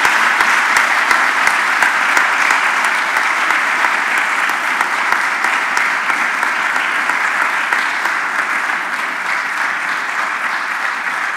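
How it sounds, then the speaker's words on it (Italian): Large church assembly in Brescia giving a long round of applause for the Vicar General, a thick, sustained wash of many hands clapping at steady loudness, easing only slightly toward the end. "a cui facciamo un grande applauso"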